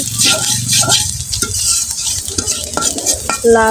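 Chopped onions fry loudly in a pan while a spatula stirs and scrapes, clattering against the metal in an uneven rhythm over a constant sizzle.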